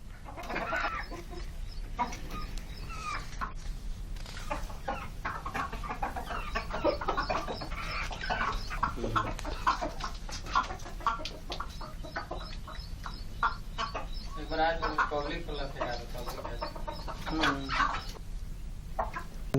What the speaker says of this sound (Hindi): कड़कनाथ मुर्गा